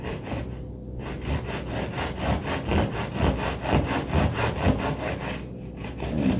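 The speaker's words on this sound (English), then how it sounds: "I use my rasp here just to follow" A hand rasp shapes the wood of a giant-scale P-47 Razorback model airplane's horizontal stabilizer, giving steady, close rhythmic scraping strokes that continue throughout with no talking.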